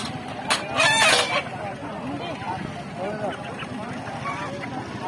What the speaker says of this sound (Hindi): ये हुण मुर्गा विकदा पे